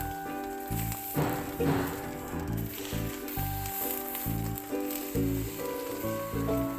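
Egg frying in a dry pan with no oil gives a steady, soft crackling sizzle that runs throughout, with rhythmic background music playing underneath.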